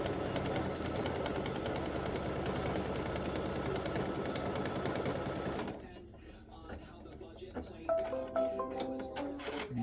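An embroidery machine stitching a tack-down pass on an in-the-hoop mug rug runs loud and steady for about six seconds, then stops, leaving quiet clicks and a person talking.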